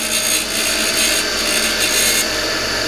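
A bevel is ground onto the tip of a screw for a 1966 Ford Galaxie 500 convertible restoration, a steady loud abrasive whir held close without pause.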